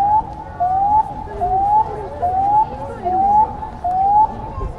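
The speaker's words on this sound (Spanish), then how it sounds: "Ahí están ya sonando las sirenas que anuncian la bajada del puente." Warning sirens sound as a drawbridge in Gdansk prepares to lower, a loud repeating rising wail in even cycles, with a crowd murmuring faintly underneath.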